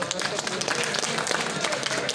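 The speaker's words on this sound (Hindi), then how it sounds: "इनके लिए तालियां।" Audience applause at a bodybuilding competition in Rawalpindi for a third-place prize winner, a steady dense patter of many hands clapping throughout, moderately loud and even, with crowd noise mixed in.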